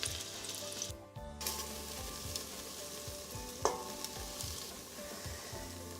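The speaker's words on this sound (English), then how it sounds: "My beef is nicely browned" Beef browns in the base of a Calphalon stovetop pressure cooker used as an open pot, giving a quiet, continuous sizzle with occasional light scraping. A brief dip interrupts it, and no one speaks.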